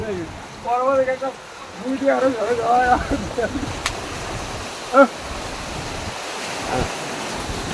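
A continuous roar of huge floodwater waves and wind in a park, with a person speaking over it for the first few seconds.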